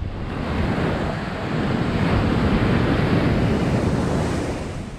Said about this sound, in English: we're going to take a nice Christmas walk along Grand Anse Beach